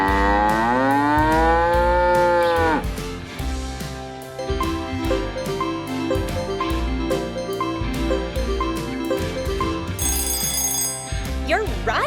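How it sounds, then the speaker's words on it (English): A long, drawn-out cow moo rises and bends in pitch at the start, then gives way to bouncy music with ringing, bell-like tones layered throughout, as in a children's animal sound quiz. "You're right! It's a cow!"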